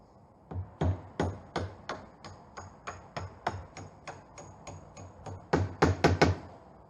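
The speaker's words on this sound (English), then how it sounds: "Hammer." A hammer knocks repeatedly while a loose UPVC door frame is being fixed, around twenty sharp, close taps in a fairly even rhythm that quickens into a fast cluster of blows near the end.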